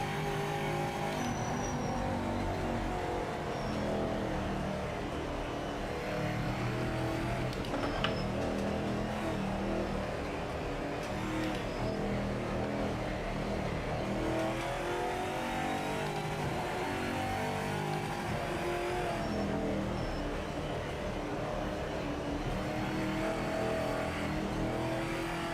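A racing car engine in Project Motor Racing 2.0 drones loud and continuous, revving up and down through gears with pitch sweeps as other cars run close by.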